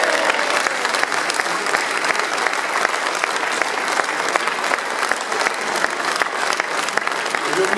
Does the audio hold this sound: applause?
yes